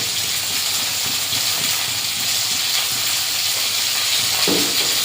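Turmeric, chili, coriander and cumin powder stirred into hot oil in a frying pan: a steady, loud sizzle and hiss fills the whole stretch, with a few scraping strokes near the end.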